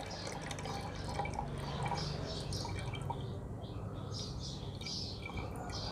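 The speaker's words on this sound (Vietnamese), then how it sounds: "Rồi giờ mình xả nước ra bỏ nha." Water draining from the tank of a steam iron, heard as a steady trickling and dripping stream that runs continuously at close range with no speech.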